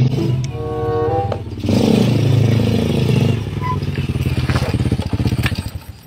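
A motorcycle engine idles with a rough, rapid putter, then revs up louder and settles into a fast, pulsing chug nearby, briefly clattering at the start.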